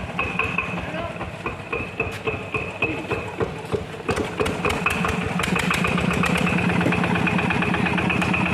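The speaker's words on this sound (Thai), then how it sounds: "ลุงเขียวเขาจะ ลองเครื่องให้ลูกค้าฟังนะครับ" A TF 85 diesel engine runs with a steady, rapid chugging knock. The throb picks up and grows louder midway, then holds an even, close rattle.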